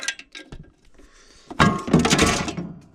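Metal bolts from a 1979 John Deere Model 68 riding mower tumble to the floor, a clattering spill with sharp clinks and scattering rattles after a few quieter knocks.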